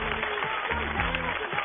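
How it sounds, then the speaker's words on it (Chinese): Audience applause for a team of Brazilian football freestyle performers at a televised stage show in China, a steady dense wash of clapping running through the whole moment under a faint voice. "让我们把掌声再次献给他们"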